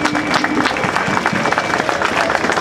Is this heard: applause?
yes